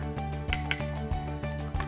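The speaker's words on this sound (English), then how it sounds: "So we're going to stir the magic ingredients in." A spoon stirs greens powder into a glass of water for a nourishing greens detox drink, giving repeated light clinks against the glass over a steady tonal background, close and moderately loud.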